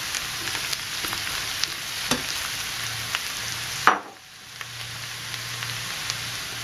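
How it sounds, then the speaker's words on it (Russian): Mushrooms and onions sizzle in a hot frying pan, a steady soft crackle with occasional stirring clinks and a scraping stir near the four-second mark, heard close up with no talking. "После того, как наш лук немного обжарился, отправляем к нему грибы"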